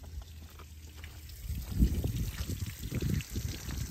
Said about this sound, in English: Got the water on